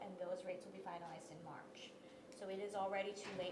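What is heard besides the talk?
No everyday noise stands out behind the speech.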